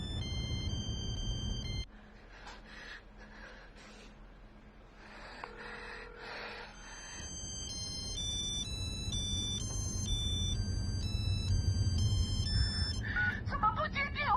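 A mobile phone ringtone plays a bright repeating melodic tune, moderately loud and close, breaking off briefly before resuming and continuing to ring, with faint movement and breathing sounds underneath.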